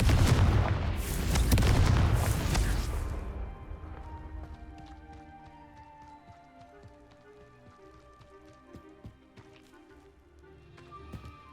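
Confringo spell explosions in Hogwarts Legacy open with a loud, booming blast lasting a few seconds, then fade into quieter crackling debris and low ambient game sound.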